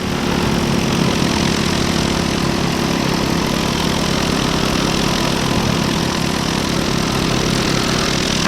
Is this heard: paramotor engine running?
yes